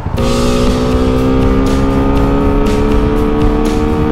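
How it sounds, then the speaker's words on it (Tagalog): A Suzuki Gixxer motorcycle ridden at speed gives a loud, steady engine drone with a strong hum and constant wind roar, held at one pitch for the whole stretch. "Testing naman natin tong Gixxer."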